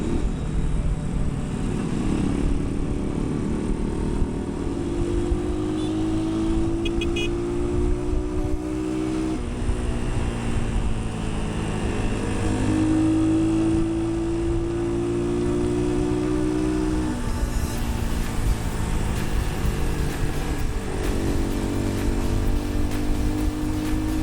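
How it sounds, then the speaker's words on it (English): A Keeway small motorcycle with a poorly idling engine and a suspected dirty idle jet drones steadily nearby, its pitch rising and dipping with throttle changes through a long run of continuous engine noise. "So far so good with the Keeway. She's still not idling very well"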